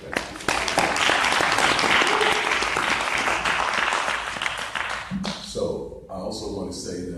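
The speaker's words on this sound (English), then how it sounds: "we just need to give you a round of applause" Audience at a talk breaks into loud, dense applause that holds for about five seconds, then cuts off sharply as a voice begins speaking.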